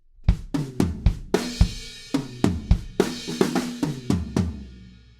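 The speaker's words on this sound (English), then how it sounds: "there's just a little fill based around that same tom groove that sounds like this" Short drum fill built around a tom groove from a song, a run of punchy tom and kick hits with crashing cymbals ringing out at the end, played solo and close.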